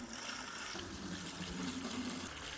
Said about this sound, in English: I'm going to go ahead and fill these guys up with water